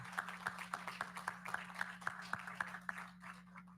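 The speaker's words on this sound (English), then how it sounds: "Let's clap it up for Titan." Clapping at a school board meeting for a DECA international finalist: a few sparse, fairly even claps from a small group, quiet and slightly distant over a steady room hum, fading out near the end.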